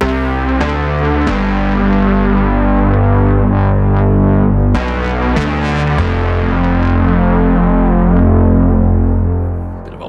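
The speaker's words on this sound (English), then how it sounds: "And then we'll finish with this one strange synth sound." Strange, distorted synth tone from the Zebra Refrakt synthesizer, the Zebra 2 version, a dense buzzing sequence of shifting harmonic notes with echoing, chorus-like movement, loud and continuous with no voice.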